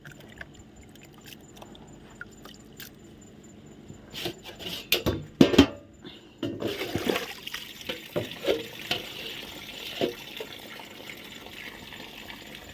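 Shrimp for Thai kung chom being washed by hand in water, starting with quiet scattered drips and handling noises, then irregular splashing and sloshing with running water, close and moderately loud.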